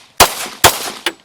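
Three sharp handgun shots fired from inside a vehicle. Each is loud and close with a short ringing decay; the first two come about half a second apart and the third is quicker and lighter.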